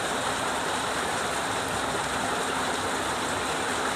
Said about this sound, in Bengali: বাইরে হচ্ছে ভীষণ বৃষ্টি